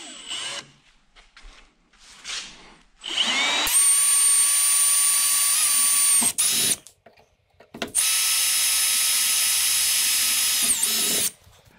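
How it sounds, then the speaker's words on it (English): Power drill boring small pilot holes in a metal bracket for a Polaris Ranger UTV dome light install, two sustained high whining bursts with short pauses and brief starts between them, close and loud, no talking. "I'm just going to start this off with a smaller pilot hole,"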